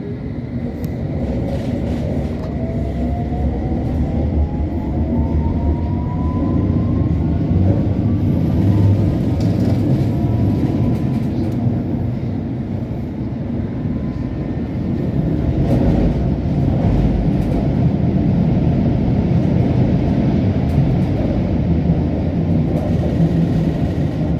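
A London Underground Metropolitan line S8 Stock train runs between stations, with a loud, steady rumble and roar throughout and a faint rising whine early on.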